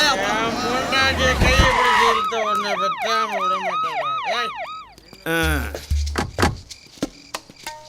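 A police vehicle siren wails in repeated rising and falling sweeps, loud and fairly close, ending with a few sharp thuds like a door, while voices talk over parts of it.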